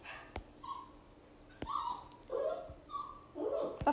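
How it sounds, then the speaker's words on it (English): A dog whimpers in the background, giving several short, high whines and yips spread across the moment, fairly faint and with no talk over them. "That's my dog in the background"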